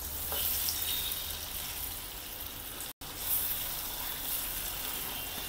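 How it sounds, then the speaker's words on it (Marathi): Food mixture being stirred and roasted in a deep kadhai, a steady close sizzle with scraping stir noise running throughout, broken by a brief dropout midway. "एकदा मी खालीवर असं मिक्स करून घेते."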